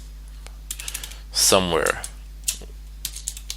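Keys clack on a computer keyboard as code is typed, a few scattered light taps spread across the moment, with a person speaking briefly over them.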